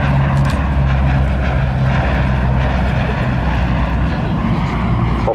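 A Bristol Blenheim propeller aircraft flying a display at an outdoor airshow, its engine drone loud and continuous throughout, with faint voices in the background.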